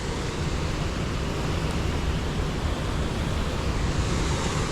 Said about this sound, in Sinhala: අද වතුර පාර සෑහෙන වැඩි